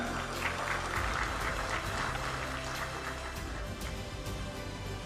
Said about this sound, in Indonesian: Oke, tepuk tangan untuk para kantah kita.